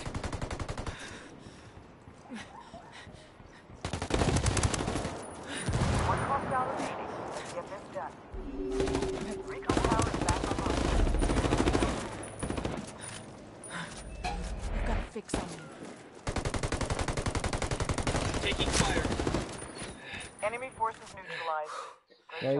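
Bursts of automatic gunfire rip through a shooter video game, with loud rapid volleys stopping and starting across the stretch, while a player talks over the action at times.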